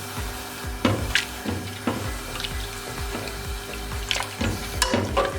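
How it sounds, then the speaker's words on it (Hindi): Grated carrots for gajar ka halwa cooking down in milk in a pan, with a soft bubbling simmer and repeated scraping and stirring clatters of a spoon, close and moderately quiet. "इसको हमें दूध में ही पकाना है और दूध को ड्राई करना है पकाते पकाते।"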